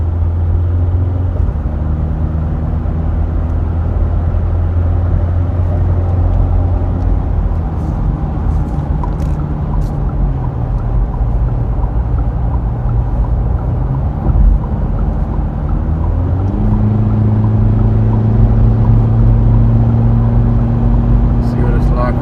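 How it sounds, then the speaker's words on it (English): GWM Tank 300 diesel SUV cruising on a highway at night, with a steady engine drone and road and wind roar, the tone stepping up and down with gear and speed changes, and voices talking over the top. "we're on a bit of a night drive, and I'm very impressed with this car on the highway"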